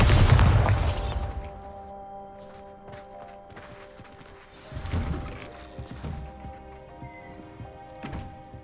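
Bombarda blasting spell exploding in Hogwarts Legacy: a single loud, close blast opens, then fades into scattered crashes, clatter and debris thuds, with a smaller burst midway.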